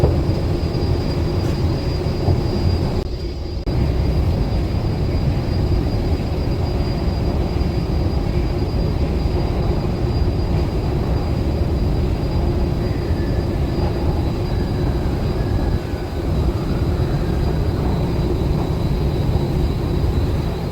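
Ride aboard a GTX-A express subway train in Korea: a loud, steady low rumble and roar of the moving train, continuous throughout with a brief dip partway.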